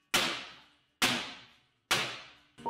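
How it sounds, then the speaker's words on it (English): Three loud, evenly spaced hammer blows striking a wooden block to drive a tonneau cover rail into a RAM 2500 Power Wagon truck bed, each ringing out and fading, with a fourth strike starting at the end. "We ended up using a hammer and a wooden block to beat the thing in."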